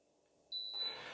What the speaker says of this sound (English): To activate this, just touch it for 5 seconds and then you should hear a beep.